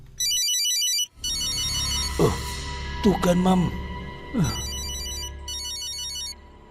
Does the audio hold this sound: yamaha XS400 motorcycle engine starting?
no